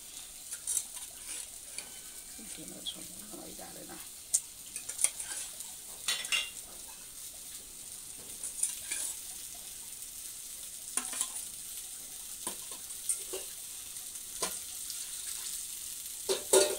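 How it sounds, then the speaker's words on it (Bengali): Fish curry being stirred in a pan, faint scraping of a utensil and a low sizzle with occasional soft clinks, quiet and intermittent against a gentle background hiss. "এবার একটু নেড়ে সেড়ে জল দিয়ে দেবো"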